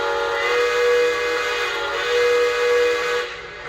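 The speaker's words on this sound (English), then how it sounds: "So you have a Santa Fe style whistle which sounds like this." A Santa Fe style steam locomotive whistle on a Lionel Legacy Santa Fe L1 Mikado model train sounds a steady, chord-like blow, swelling twice before cutting off abruptly, loud and close with no talk.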